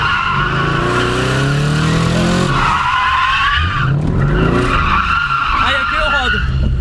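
A Chevrolet Camaro drifting throws out loud, sustained tire squeals that rise and waver over a revving engine, fading briefly midway before skidding again, with voices talking over it.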